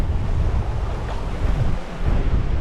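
Wind and waves buffet a sailboat running under full Yankee and double-reefed main in the Sound of Jura, gusts over 20 knots and near gale; steady loud roar of wind noise and sloshing water with a surge near the end.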